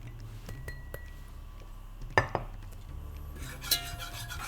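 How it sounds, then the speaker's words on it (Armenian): A pan clinks and scrapes as flour goes into it for a béchamel sauce, with a few sharp metallic knocks from a utensil against the pan over quiet kitchen background, no talking. "Ավելացնում եմ ալյուրը։"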